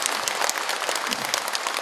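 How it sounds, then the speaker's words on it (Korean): Brief burst of dense, steady applause from a congregation at a Buddhist dharma ceremony honoring the presiding senior monk, continuous clapping with no voices. "우리 주관해 주신 큰스님께도 박수 한번 부탁드리겠습니다"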